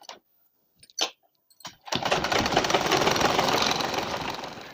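A sewing machine runs steadily as it stitches lace onto saree cloth, starting after a few clicks and taps and then whirring loud and close in a continuous mechanical hum for several seconds.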